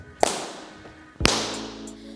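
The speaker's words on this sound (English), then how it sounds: "You have to turn your foot in to make a nice slapping sound with your hand." Two sharp, crisp slaps of a hand striking a turned-in foot during wushu kicks, about a second apart, each a loud crack with a brief ringing tail in an echoey room.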